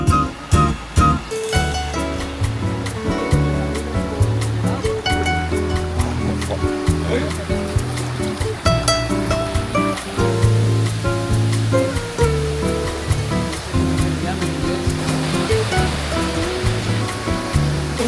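Waterfall in El Salvador behind La Costa, a loud steady rush of falling water filling the scene throughout, with music-like tonal layers and occasional knocks over it.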